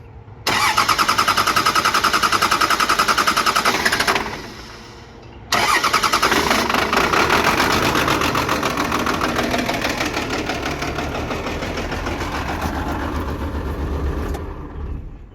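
A truck swapped to a 12 valve diesel cranks and fires up loudly and close, cuts out briefly, then restarts and settles into a steady, clattering diesel idle that runs on to the end.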